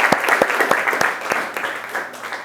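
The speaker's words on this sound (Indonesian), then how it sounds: "Kita berikan aplaus dulu untuk kelompok 3 anak-anak" A classroom of students applauds group 3, a steady burst of moderately loud clapping from many hands with a few sharper individual claps standing out, continuing throughout.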